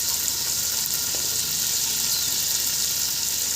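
Peas frying in hot oil with mint and curry leaves give a steady, close, bright sizzle that hisses evenly throughout with no talking.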